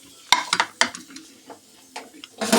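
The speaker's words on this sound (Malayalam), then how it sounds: "നമുക്ക് തേങ്ങ വറക്കാൻ നോക്കാം" Coconut being roasted in a pan while making onion sambar: a few sharp clinks and scrapes of a spoon against the pan, with a light sizzle underneath and a brief louder burst at the end.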